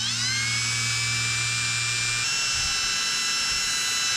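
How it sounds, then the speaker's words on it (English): A small electric drill bores a hole just off to one side of a plastic brake fluid reservoir cap, a high, steady whirring with a pitch shift midway as the bit bites, close and alone. "you're gonna wanna drill a hole just off to one side of the cap"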